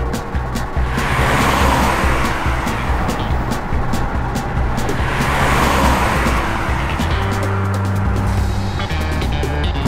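A cartoon car overtakes with a continuous, loud engine drone that swells twice as it passes, with brief tire-squeal-like tones near the end and no talking.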